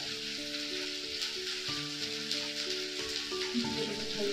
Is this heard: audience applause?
no